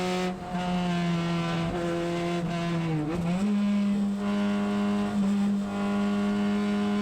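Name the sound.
car driving through a fast bend on a road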